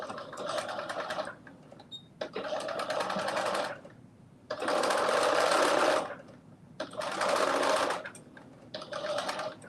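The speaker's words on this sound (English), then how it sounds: "You're going to stitch that pocket." A sewing machine stitches a pocket in five separate runs of loud, rapid whirring, separated by short quiet pauses, close by with no talking.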